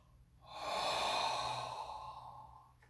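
A single long, breathy exhale through the mouth during a yoga session, rising over half a second and fading slowly, close and quiet with no talking.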